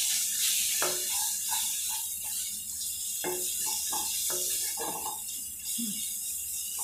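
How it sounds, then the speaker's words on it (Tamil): Spices, chilli powder and garam masala, sautéing in oil in a pan for paneer masala: a soft, steady sizzle with intermittent stirring scrapes and clinks of a spoon against the pan. "இது மூணும் போட்டு நல்லா வதக்கிடணும்."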